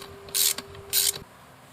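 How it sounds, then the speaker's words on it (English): A ratchet lightly snugs down a bolt on a 20-inch KMC wheel fitted with a 43-inch Baja Pro mud tire, giving two short, close bursts of rapid clicking over a faint steady hum. "Now I'm just going to lightly screw this down."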